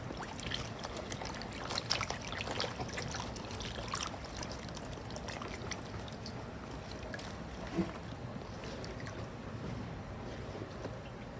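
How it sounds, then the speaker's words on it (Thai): Yellow-stained cloth is soaked with water, a continuous wet trickling and splashing that runs steadily throughout at moderate volume, with no speech. "จะทำผ้าให้เปียก"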